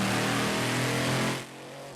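A loud, continuous monster truck engine roar at an indoor event center show holds steady, then drops off sharply near the end, leaving a quieter low rumble.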